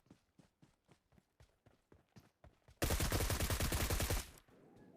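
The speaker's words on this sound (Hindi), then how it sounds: "यहाँ पे पता नहीं किसने कौन सी गन चलाई थी" Gunfire in a battle royale shooter game: a string of separate, evenly spaced single shots, then a sudden loud, dense burst of rapid automatic fire lasting over a second before cutting off to quiet.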